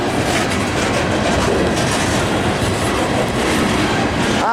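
A CSX freight train hauling ethanol loads rolls past on welded rail, a loud, steady rumble with continuous wheel noise and faint clickety-clack throughout, heard close by with no talk.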